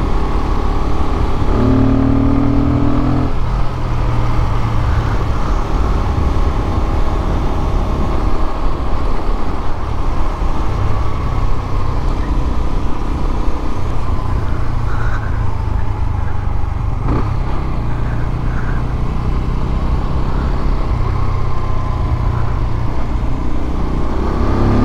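A Keeway RKF 125 motorcycle rides through town, its engine droning steadily with rising and falling pitch through gear changes, wind and traffic noise blended in, loud and close, no speech.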